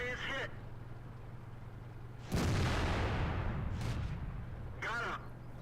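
A tank gun shell strikes an enemy tank in World of Tanks, a sudden loud broadband impact crash that rings out and decays over a few seconds, with a steady engine drone underneath and faint whistling bursts before and after.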